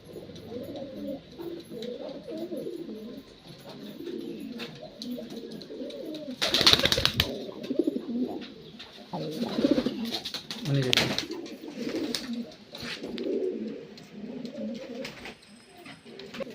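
Pigeons coo in a home pigeon loft with repeated low, throaty calls near and far, briefly broken by a sharp rustling burst of wing flutter, and a voice talks faintly in the background.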